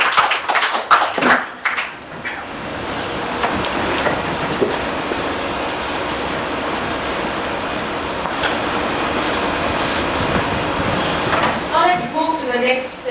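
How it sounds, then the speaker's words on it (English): Audience applause after a special talk at a conference session, a sustained dense clapping wash lasting most of the clip, with brief speech at the start and end. "Let's have a big round of applause for this wonderful special talk."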